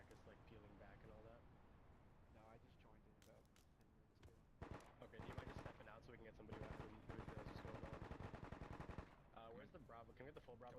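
Repeated bursts of rapid gunfire during an outdoor patrol contact drill in small-unit tactics training, sustained and fairly loud through the middle, with voices shouting between volleys.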